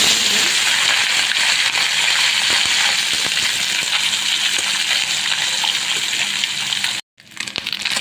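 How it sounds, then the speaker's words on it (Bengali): Mola fish frying in soybean oil in a wok makes a loud, steady sizzle and crackle that cuts off abruptly near the end, then returns faintly. "আমি একটা কড়াইতে কিছু পরিমাণ সয়াবিন তেল দিছি মাছটা ভাজার জন্য"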